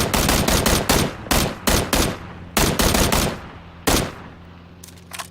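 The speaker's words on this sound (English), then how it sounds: "Parked up for a little bit and thought I'd have another few pot shots at a UAV." Bursts of rapid gunfire in PUBG, aimed at a UAV, come in several loud volleys with short gaps, followed by quieter engine rumble.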